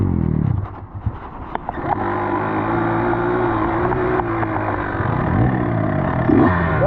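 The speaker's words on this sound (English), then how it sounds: "Got a bump start on here." A dirt bike engine, just bump-started, roars loudly up close with a rough, rising rev and steady buzzing drone, punctuated by a few clattering knocks.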